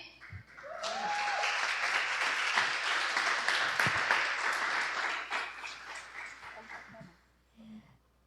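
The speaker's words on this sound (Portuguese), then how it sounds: "para a gente poder receber com uma salva de palmas a nossa pastora" Applause from a church congregation welcoming their pastor at an evening prophetic service, swelling in quickly, holding for several seconds, then tapering off, with a faint voice near the end.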